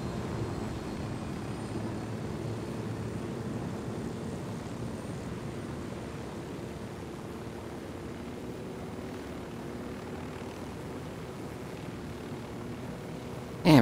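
Helicopter in flight in Tom Clancy's Ghost Recon Wildlands, a steady low rotor-and-engine drone at moderate level that holds throughout, with a brief sharp burst at the very end.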